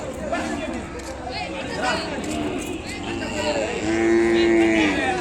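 Ongole cattle moo at a busy livestock market in Telangana; a long, drawn-out low is heard near the end, with steady crowd chatter and people talking throughout.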